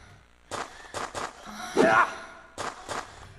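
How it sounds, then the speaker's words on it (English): Heavy, labored breathing from the Silent Hill 4 video game comes in slow, loud, ragged breaths, with a longer strained gasp in the middle. "you'll be greeted by the sound of heavy, labored breathing"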